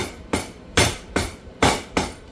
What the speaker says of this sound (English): go ahead and grab your hammer and tap these down for me